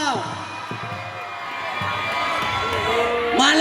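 Grade 1 SMA students cheer and shout in a crowd inside a hall, a dense wash of voices with whoops that swells louder toward the end, while an announcer's voice is heard over it.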